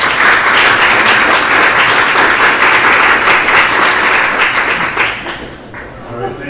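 An audience bursts into steady, dense applause to welcome speaker Craig Bethke at a startup talk event, sustained for several seconds before thinning out and fading near the end.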